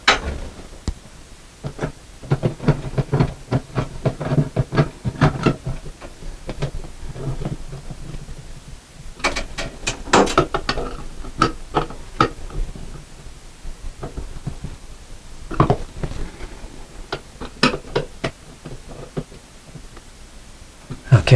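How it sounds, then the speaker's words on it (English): Screws are driven down one after another into a bathroom light fixture, giving close, scattered clicks, ticks and scrapes against the metal in an uneven rhythm. "All right, so let's screw these down."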